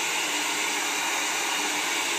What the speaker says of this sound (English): We move the hair dryer side to side.